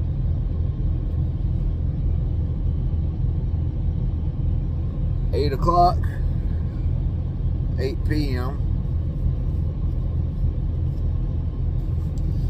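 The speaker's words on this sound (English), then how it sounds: "And now we're sitting here with the truck running." A parked truck idles with a steady, low, even engine rumble throughout, while someone speaks briefly twice over it.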